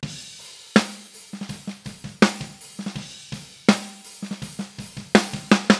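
A drum kit captured with top and bottom microphones blended plays a steady groove, sharp snare cracks punctuating quick, lighter hits, close and punchy with ringing body; no voices.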